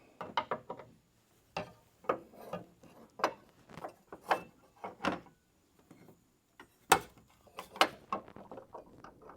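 A bolt on a ditch light mount of a full-size Chevy or GMC truck being snugged with a ratchet, quick bursts of close mechanical clicks separated by short pauses.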